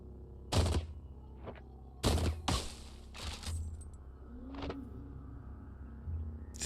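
Mortar fire in Caves of Qud comes as several heavy, sharp blasts at irregular intervals, two louder booms standing out over a low steady hum, with one short rising whistle between them.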